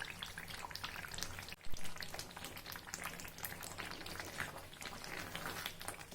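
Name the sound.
tomato pickle bubbling in boiling oil on gas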